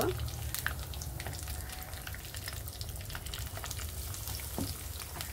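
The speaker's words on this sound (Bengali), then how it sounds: "তো আমি রোলটা ভেজে নিব।" Homemade vegetable rolls fry gently over low heat in hot oil, a steady, soft sizzle with fine crackling pops and an occasional light clink, heard close and without talk.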